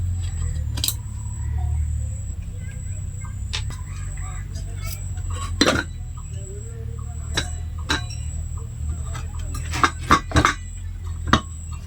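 Metal pans of differing designs handled and knocked together, with sharp clinks and taps scattered irregularly over a low background rumble of traffic, near and moderately loud, while people talk nearby.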